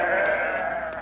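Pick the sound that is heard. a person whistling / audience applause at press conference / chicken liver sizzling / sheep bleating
sheep bleating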